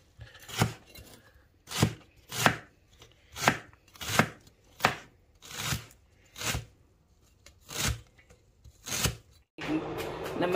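A knife slices thinly through ingredients for a detox juice on a cutting board, about a dozen crisp separate cuts at an uneven steady pace, close and clear, ending in a burst of clattering handling noise.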